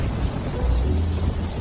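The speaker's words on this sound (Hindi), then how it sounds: "तभी अचानक तेज बारिश हुई" Heavy rain falls as a dense, continuous wash of noise with a deep low rumble, steady and loud throughout with no voices.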